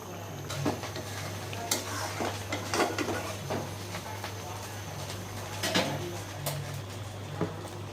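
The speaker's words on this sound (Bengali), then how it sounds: "আর আমার ডিমটাও এখন আমি উলট পালট করে দিচ্ছি।" A spatula scrapes and clinks in a pan as egg and dal are stirred and flipped, with irregular clanks over a low steady hum and a faint sizzle.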